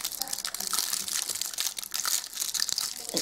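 Lego Chima card packaging being opened, with irregular bursts of close plastic crinkling and crackling rustles over a few seconds.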